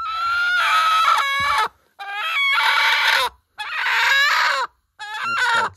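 A brooding hen sitting on four or five eggs clucks and squawks in loud, close bursts separated by short silences on a farm.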